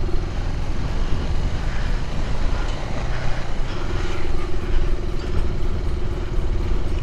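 Three motorcycles ridden fast together across a sturdy bridge on a high mountain route, giving a loud, steady engine drone with wind rush throughout.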